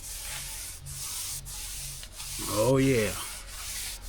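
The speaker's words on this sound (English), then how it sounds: "Sand it down a little more." Wooden wall boards sanded by hand, giving steady rasping strokes in a regular back-and-forth rhythm, close and fairly loud, with a short spoken remark partway through.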